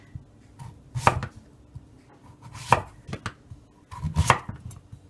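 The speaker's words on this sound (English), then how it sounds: "We're going to lay them down and watch how we cut." Kitchen knife slicing an acorn squash into quarter-inch pieces on a cutting board: three firm, separate chops spaced over a few seconds, each a sharp crunching thud close by, with quiet pauses between and no talking.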